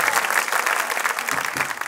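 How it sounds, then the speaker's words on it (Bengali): Studio audience on a Bangladeshi entertainment show applauds, a dense burst of steady clapping that fills the short moment without a break. "সাধারণ জোরে তালি দাও।"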